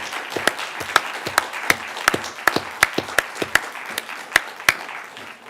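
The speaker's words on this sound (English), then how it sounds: "Well, I think they deserve a round of applause." Scattered applause from a small audience at a moot court competition final on energy and sustainability, a few dozen distinct sharp claps spread unevenly over several seconds, fairly close.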